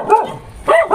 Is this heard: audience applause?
no